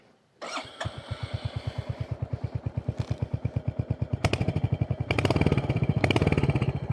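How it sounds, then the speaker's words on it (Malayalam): A Royal Enfield Hunter 350 motorcycle starts up and settles into a close, loud, steady thumping idle of evenly spaced exhaust pulses, with a few short blips of throttle near the end. "ഇതിൻ്റെ എക്സോസ്റ്റ് നോട്ടും കൂടെ കേൾപ്പിച്ചു തരാം"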